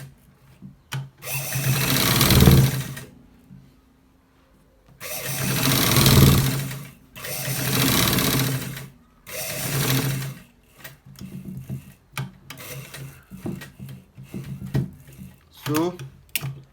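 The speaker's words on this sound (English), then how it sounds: "we are stitching it to the down part like this." Sewing machine stitching a double neck collar runs in several loud bursts of rapid needle chatter separated by pauses, with a voice talking and fabric handling in the gaps.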